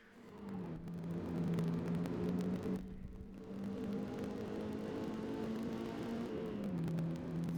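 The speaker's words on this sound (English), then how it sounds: "Got my Wurlitzer organ under the hood, whirring my engine along nicely." A race car's engine in Forza Motorsport drones with a steady, even whir, holding a sustained tone and dipping briefly partway through before settling back into a constant hum, with no voices.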